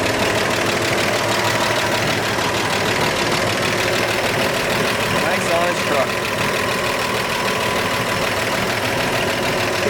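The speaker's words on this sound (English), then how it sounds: "love the sound of the lifters ticking away." A 1948 Chevrolet 3100 half-ton pickup with its 216 six-cylinder idles steadily, the valve lifters ticking away in an even, continuous patter, while someone talks briefly over the running engine.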